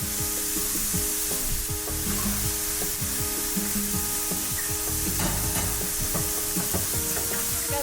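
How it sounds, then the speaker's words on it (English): Onion and vegetables sauté steadily in a pan for a herbed croissant stuffing, a continuous close sizzle broken by repeated scraping stirs, with no voices. "let this saute together until the onion is nice and translucent and the veggies are soft"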